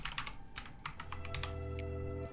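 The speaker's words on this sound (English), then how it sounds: "I'll just type it in. It'll be faster." Keystrokes on a computer keyboard while playing PC Building Simulator 2, a quick irregular run of close, moderately loud clicks over a steady low hum, with no talking.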